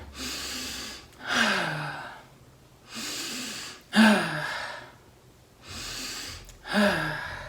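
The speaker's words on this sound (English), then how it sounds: "Let's take 3 deep breaths together" Three slow, deep breaths taken together by a woman and a small group, each a long audible inhale followed by a sighing exhale, close and clear with short quiet gaps between them.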